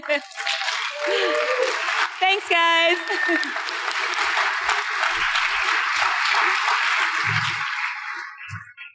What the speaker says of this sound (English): will you stand up and give her a round of applause?